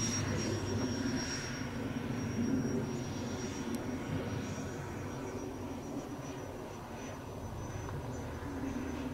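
An aircraft engine drones steadily and evenly in flight as the plane climbs to gain altitude, a constant close hum with no breaks or voices.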